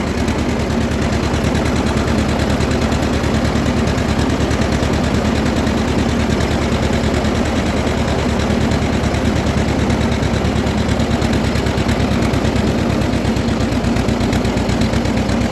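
A tractor engine runs steadily while the tractor tries to pull a vehicle stuck in mud. The loud, close diesel chugging is continuous, with a fast, knocking pulse throughout, and no speech is heard.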